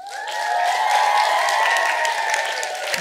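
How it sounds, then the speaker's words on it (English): A studio audience gives a steady round of applause at the close of a show on myths and legends, with dense, sustained clapping and no talk over it. "Give yourselves a round of applause."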